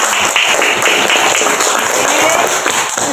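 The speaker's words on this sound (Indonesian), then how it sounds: "Tepuk tangan dulu untuk kita semuanya" A classroom of students applauds together during an Islamic religious studies lesson, the clapping dense and continuous at a fairly loud level throughout.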